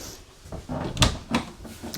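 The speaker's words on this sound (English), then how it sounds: "this door is squeaking here as we're walking by it" The door of a 2026 Grand Design Imagine 2810BH travel trailer squeaks and knocks as it swings, giving a few close, short creaks and thuds in an indoor space, with no talking.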